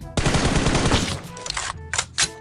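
A rapid burst of automatic gunfire rings out in the PUBG Mobile video game, loud and continuous for about a second, then breaks into a few scattered shots.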